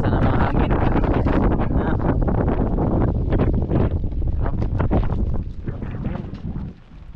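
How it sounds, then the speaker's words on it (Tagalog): Strong wind buffets the microphone with loud roaring gusts, easing off slightly toward the end. "Naglakas na naman hangin"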